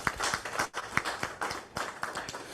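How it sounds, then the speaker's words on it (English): Audience at a Caribbean internet governance forum session claps for the panelists, a brief patter of scattered hands at moderate distance, fairly quiet and thinning out. "Again, round of applause for the esteemed panelists,"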